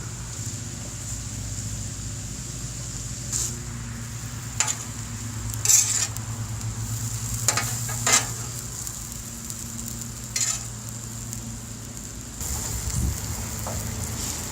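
Philly cheese steak filling with cheese melts on a grill while being mixed, a faint steady sizzle broken by several sharp metal spatula clicks and scrapes, no voices.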